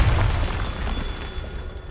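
A Bombarda spell explosion in Hogwarts Legacy, a deep low boom at the start that fades into a rumbling decay with a faint steady whine above.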